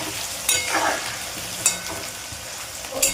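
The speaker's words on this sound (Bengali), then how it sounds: "ওলগুলো আমি লাল লাল করে ভেজে নেবো" Chunks of elephant foot yam fry steadily in hot oil for a vegetarian curry, browning to a reddish colour. The sizzle is close and continuous, with a few sharper crackling bursts and no talking.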